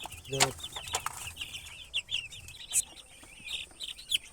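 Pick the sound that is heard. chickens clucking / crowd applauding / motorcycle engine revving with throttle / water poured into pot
chickens clucking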